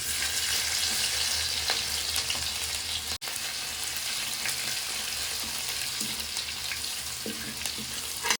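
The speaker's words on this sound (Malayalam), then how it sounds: "ഇനി വെളുത്തുള്ളി ചതച്ച് ഇട്ട് കൊടുക്കാം" Crushed ginger and garlic fry in hot oil in a home kitchen pan, giving a loud, continuous close sizzle broken by one sharp momentary cutout, with light stirring and clattering over the hiss.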